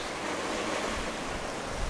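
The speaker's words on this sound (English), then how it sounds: "And the waves have been building up the whole day, so they're quite big now." Big ocean waves roll and wash continuously under strong wind of about 22 knots, heard at sea aboard a sailboat in thick fog on a passage from Hawaii to Alaska.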